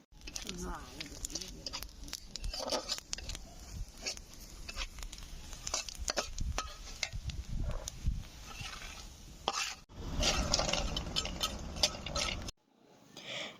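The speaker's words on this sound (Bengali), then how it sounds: "এখন কুমড়ার বড়িটা ভেজে নিচ্ছে" Pumpkin bori, dried lentil dumplings, frying in a pan over a clay stove, with stirring and scraping clatter and soft sizzling, close by, while someone talks over it.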